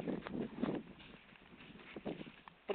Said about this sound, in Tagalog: May nagsasakay ng kabayo.